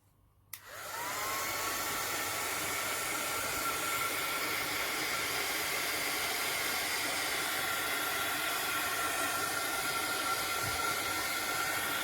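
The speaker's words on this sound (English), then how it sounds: "I dried off with the heat gun or the heat tool" A heat gun blows a loud, continuous whooshing hiss as it dries mixed media craft tags, switched on after a brief quiet start and running steadily with no talk.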